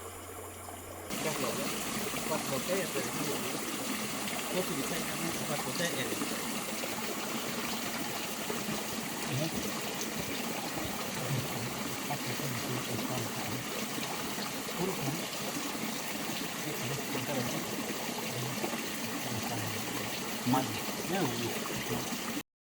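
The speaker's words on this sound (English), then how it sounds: "This waterfall was made by the Mayans. It is an artificial waterfall" An ancient Mayan artificial waterfall in the Palenque jungle: a steady, close rush of falling and splashing water that runs unbroken throughout, with faint jungle background.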